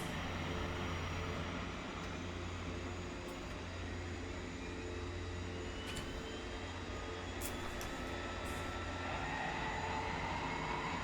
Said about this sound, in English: I hear an engine up and running